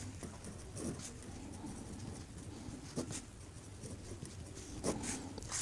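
A pen writes out a maths problem on paper in faint, scratchy strokes with small taps, soft and close under a hushed room background.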